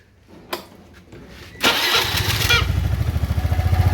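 A carbureted Honda Vario scooter engine cranks with a brief starter whir, then catches and settles into a steady, close, pulsing idle that continues to the end.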